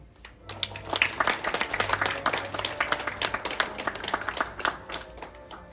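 Applause from an audience at a reading-essay award ceremony in Busan, dense scattered claps lasting several seconds at a steady moderate level, with a low hum underneath.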